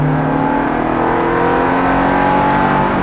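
A Ferrari F430 on a track accelerates hard, the engine note loud and close, rising in a steady high-revving howl with strong harmonic tones.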